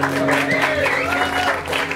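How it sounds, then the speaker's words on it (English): An audience at a small live music show applauds for the drummer, a dense, steady wash of clapping close by, with a voice speaking over it. "I'd also like to give a round of applause to Nick West behind me, the drummer."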